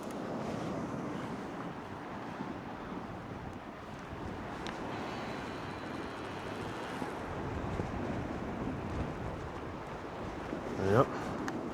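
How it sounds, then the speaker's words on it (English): Steady wind roars at the seashore in the wake of Storm Amy, a loud, constant rush buffeting the microphone for the whole stretch, with a short sharper gust near the end. "I'm sorry if that wind is moving the camera a little bit."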